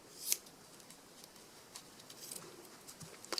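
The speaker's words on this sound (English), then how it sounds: "I need to take my special embroidery scissors" Special embroidery scissors cut away fabric around a stitched coaster, giving a few quiet, close snips: a sharper one near the start and faint clicks later, with no talking.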